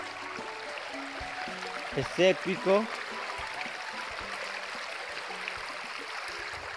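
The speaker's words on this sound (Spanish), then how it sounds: "Acá me van a perdonar por el ruido del canal" A steady broadband rush of canal water runs throughout at moderate level, with a brief burst of talk near the middle sitting on top of the continuous flow.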